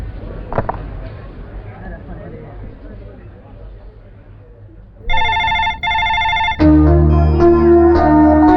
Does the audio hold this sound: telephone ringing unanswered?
yes